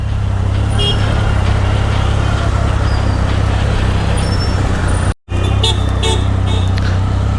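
Steady roadway traffic along a lane during a lockdown, with a continuous loud rumble of passing cars and other vehicles close by, cut by a brief dropout, then resuming with faint horn-like tones.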